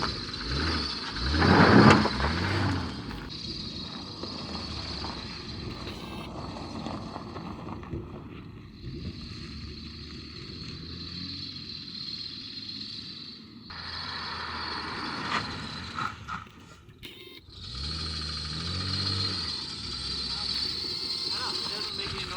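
Ford F-250 with a 6.0L engine idles and revs with a steady mechanical hum and whine, changing pitch as the revs rise and fall, while people talk over it.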